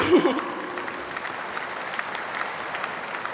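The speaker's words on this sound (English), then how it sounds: "I think another round of applause is in order." A graduation crowd applauds the graduating class at a university ceremony; a brief voice opens, then even, moderately loud clapping carries on steadily across the hall.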